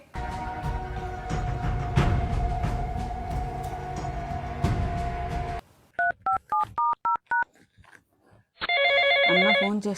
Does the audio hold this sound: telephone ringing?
yes